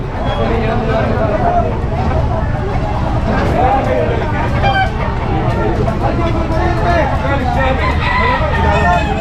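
Chickens and a rooster at a coop crow and cluck amid steady crowd babble and people talking, the birds' calls rising intermittently above a loud, continuous street hubbub.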